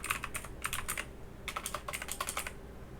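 Someone types in short bursts on a computer keyboard, with quick clustered key clicks, brief pauses between runs, and no voices.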